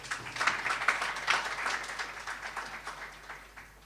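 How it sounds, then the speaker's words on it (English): An audience at the launch of a corporate area track and field meet applauds an event organizer, a fairly faint spread of clapping that fades gradually over a few seconds. "Round of applause,"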